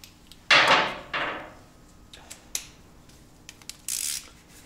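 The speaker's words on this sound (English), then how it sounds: "So I have my torque wrench here. I'm going to go ahead and torque that down just so I don't forget." Tightening a bolt on a MINI Cooper Roadster transmission with a torque wrench makes a few sharp, close ratcheting rasps and clicks, then scattered small metallic taps and handling noises, with no talking.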